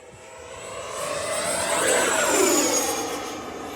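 FMS Super Scout RC model airplane at full throttle, its electric motor and propeller whining loudly as it climbs and passes close, swelling then easing off over a few seconds.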